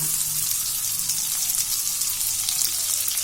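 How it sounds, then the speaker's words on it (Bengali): Diced onion fries with cumin seeds in a pan, giving a close, continuous sizzling hiss without a break. "জিরেটা একটু ভাজা হয়ে গেলে এর মধ্যে দিয়ে দিচ্ছি ডুমু ডুমু করে কেটে রাখা পেঁয়াজ।"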